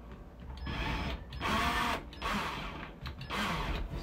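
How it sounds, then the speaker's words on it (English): A hyper tap power drill whirs in three short bursts separated by pauses, close by, drilling a hole for a toilet paper holder, with no talking. "I'm gonna use my hyper tap drill together with this the drill bit they recommend."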